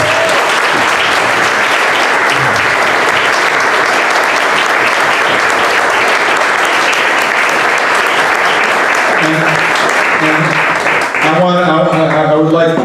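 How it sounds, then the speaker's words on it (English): Audience applause at a talk on the Plowshares peace movement in Brunswick, Georgia: dense, steady clapping from a large crowd fills the whole span, with voices rising as it tapers off at the end. "Can we give a round of applause,"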